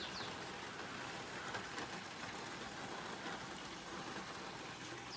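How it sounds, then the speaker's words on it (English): Steady, soft hiss of rain falling during the rainy season in Querétaro, Mexico, an even wash of drops heard at a distance, faint and unbroken with no voices. "this is pretty much the rainy season here in Querétaro, so we'll be getting rains"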